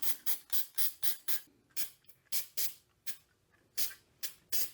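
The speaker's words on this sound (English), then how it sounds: "Let's spray this." A dry lubricant aerosol can sprays in a series of short, sharp hissing bursts, close up, with brief pauses between each spurt, applied to parts of a diesel and kerosene forced air heater.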